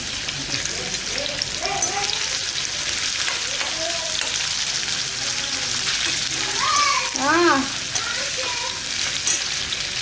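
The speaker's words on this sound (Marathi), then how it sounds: "तेल तापले तापले कांदा हा बघा कांदा टाकला" Chopped onion sizzles steadily in hot oil in a pan for a wild monsoon vegetable dish, a loud continuous frying hiss with faint voices and brief clinks underneath.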